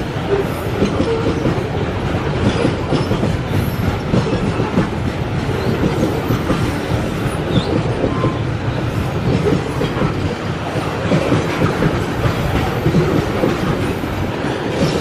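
Freight train of coal wagons rolls past on rails behind a Tarahan depot locomotive in Indonesia, a loud continuous rumble with rhythmic clickety-clack of wheels over joints and faint squeals, steady throughout.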